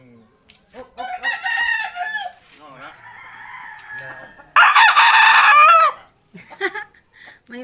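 A red rooster in a rural Bicol village crows loudly nearby in one strong, drawn-out call, with people talking and softer clucking and bird calls before and after it.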